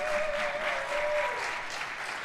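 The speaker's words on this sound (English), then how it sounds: "Let's give them a round of applause just for creating work." Sustained applause from a crowd, steady clapping filling the whole stretch, with a faint tone sliding down partway through.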